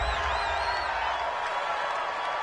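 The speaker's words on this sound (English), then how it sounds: "This home crowd, they're happy with that call." A home crowd in a football video game roars steadily after a penalty call, a dense far-off wash of cheering that holds level throughout, with a faint whistle-like tone early on and no talk.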